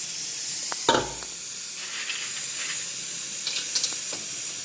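Papad frying in hot oil at home, a soft continuous sizzle and hiss with a few brief clattering bursts and crackles.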